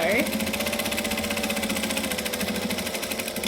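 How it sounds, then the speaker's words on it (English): A sewing machine runs steadily while top stitching fabric on a pouch, a close, even mechanical whir with a fast regular needle rhythm that holds throughout, starting with a brief higher whine. "and then we're just going to top stitch"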